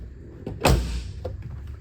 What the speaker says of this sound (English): Doors open and shut very nicely.